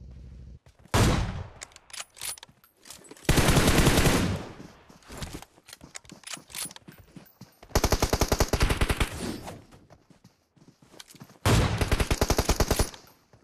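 Automatic gunfire in the mobile battle royale game PUBG Mobile, loud close bursts of rapid shots repeating in several separate volleys with quieter gaps between them.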